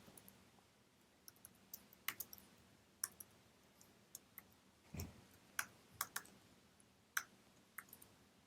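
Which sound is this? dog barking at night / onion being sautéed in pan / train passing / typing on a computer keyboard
typing on a computer keyboard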